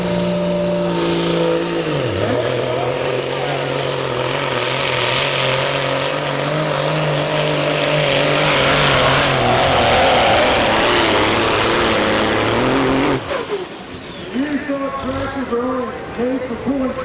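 Pro stock semi truck hauling a sled down a pulling track, its engine roaring loud and steady for about 13 seconds before cutting off abruptly, with an announcer talking throughout.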